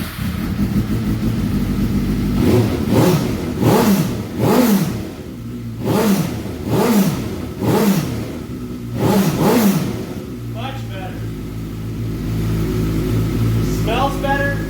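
Suzuki GSX-R 600 motorcycle fitted with a full exhaust, revving loudly in a run of about six sharp throttle blips that rise and fall, then dropping back to a steady rumbling idle.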